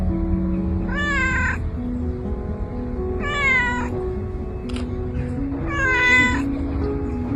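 A kitten gives three clear, rising meows spaced a couple of seconds apart, close and fairly loud over a background of low hum.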